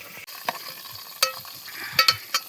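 A rat roasting and being turned over a jungle campfire gives a soft crackle and sizzle, broken by a few sharp pops and clicks from the fire. There is no talking.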